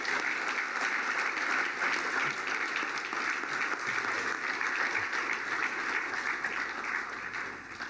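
Audience applause at a regional governors' forum on the Lake Chad basin, a dense sustained clapping from a large crowd that fills the whole stretch and fades slightly at the end.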